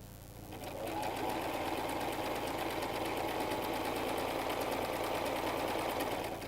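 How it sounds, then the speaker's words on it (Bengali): A sewing machine runs steadily, stitching salwar fabric along a chalk line with a continuous, fast, even whir that starts up and holds at a constant close level, alone without talk. "রাবার কিভাবে লাগাবো সেজন্য এটা সেলাই করে নিচ্ছি।"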